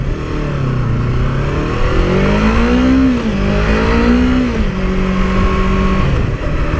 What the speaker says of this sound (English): Love the way this bike sounds.